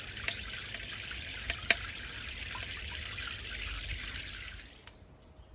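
Water pours steadily into the water pan of a bullet smoker for a brisket cook, a close, continuous trickle with a few sharp drips and knocks before it tapers off near the end.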